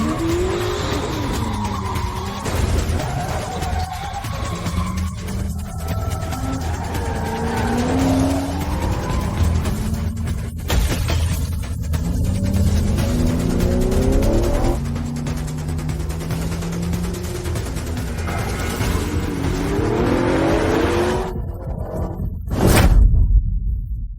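A car's tires squeal and skid in long, wavering screeches over a loud engine roar, ending in a sudden sharp burst as the car comes to a stop.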